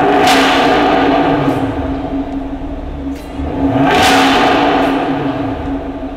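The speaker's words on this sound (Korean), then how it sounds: "이 차량 배기음 듣고 가실게요" A Chevrolet Camaro SS 6.2 V8 with variable exhaust revs loudly with a deep exhaust rumble, rising twice in strong swells over a steady idle, with no talking.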